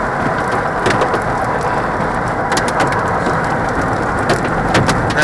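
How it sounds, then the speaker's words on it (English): Large hailstones hammer a car during a tornado, a dense, loud, steady clatter of impacts on the body and roof with sharper individual cracks scattered throughout, close and continuous without talk. "Oh, that's huge hail."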